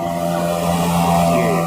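A loud engine drones steadily close by, its pitch rising slightly as it revs, filling the whole stretch with a rough mechanical roar.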